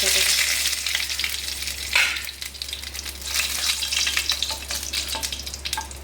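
Whole cumin seeds and a chili broken in two sizzle hard in hot oil, a loud, crackling fry with bursts of popping and some stirring, no talk.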